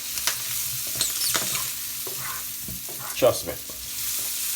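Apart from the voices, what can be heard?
large king prawns frying in a pan with garlic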